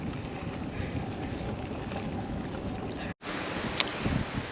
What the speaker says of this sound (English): The wind was right on schedule.